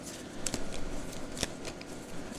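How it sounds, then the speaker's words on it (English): Tarot cards being shuffled by hand, a soft papery riffling with a few sharper snaps, close and fairly quiet with no talk. "I'm going to go ahead and shuffle."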